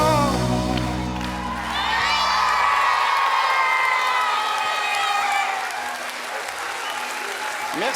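A studio audience of a French children's TV talent show bursts into loud applause with cheers and whoops, while a musical tone fades out early on and the clapping keeps going strongly.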